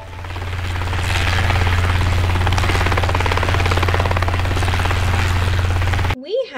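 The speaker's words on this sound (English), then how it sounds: "We have a helicopter." A helicopter roars steadily close by, its deep rotor thrum and engine whine holding loud and constant before cutting off abruptly near the end.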